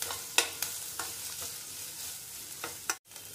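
Carrots frying in a pan for vegetable oats upma, a steady close sizzle broken by several sharp scrapes of a spoon stirring, with a brief pause near the end.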